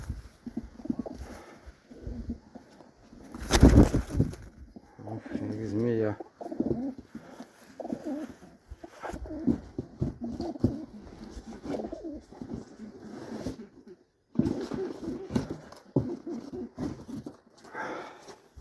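Pigeons of a flying breed coo repeatedly close by, soft throaty calls rising and falling while someone talks quietly over them, with brief rustling and one louder bump partway through.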